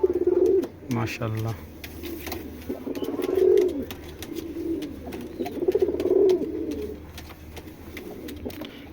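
Giribaj pigeons coo in repeated low, rolling bursts, with a brief spoken exclamation near the start.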